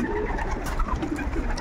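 Pigeons coo steadily at close range, a low soft burbling that runs throughout without any talk.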